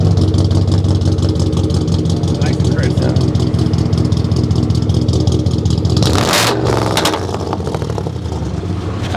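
An original 1965 Ford F250 Crew Cab 4x4 truck engine runs loud and close, holding a steady rumble before a sharp rev-like burst near the end, with people talking over it.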